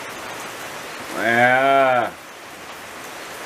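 Steady rain falls outdoors as a soft, even hiss that runs throughout, briefly covered by a drawn-out spoken exclamation from a nearby voice.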